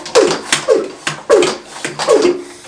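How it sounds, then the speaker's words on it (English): Hand pump sprayer filled with warm water being pumped, four rhythmic squeaky pump strokes close up, each a short hissing squeal, no voices. "I put some warm water in here, and then I just, you know, pump the sprayer"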